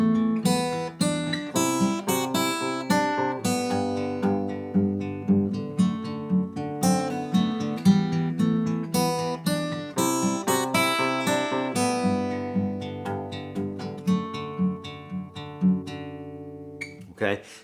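A fingerpicked acoustic guitar arrangement of a song, with plucked notes that ring clearly in a steady rhythm, melody over moving chords. The playing is close and alone, and the notes decay gently toward the end.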